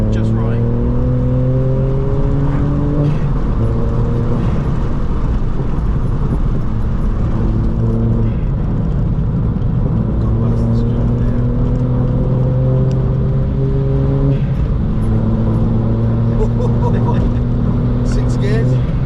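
VW Up GTI with a 155 bhp engine revving hard through repeated gear changes, rising engine notes stepping up and dropping, loud and close with crackling exhaust pops between shifts.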